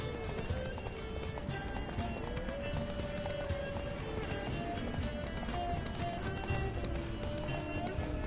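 Horse galloping in The Witcher 3 video game, a steady rapid clip-clop of hooves running continuously and fairly close, layered over game music and ambient noise without pauses.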